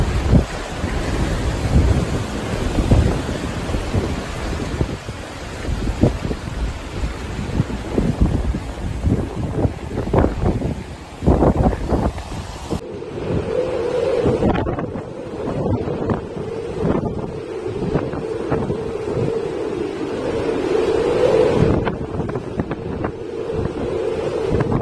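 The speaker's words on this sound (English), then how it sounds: "southern parts of Japan continued to experience rough seas, gusty winds, and periods of rain" Typhoon Bavi lashing southern Japan, with heavy roaring gusts buffeting the microphone over crashing rough seas and rain, a constant loud wash of wind and surf that shifts to a steadier rumble midway, without any voices.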